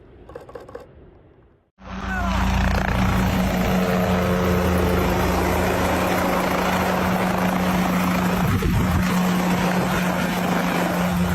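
A helicopter flies close by, a brief quieter patch giving way abruptly to a loud, sustained rotor and engine drone with a steady low hum throughout.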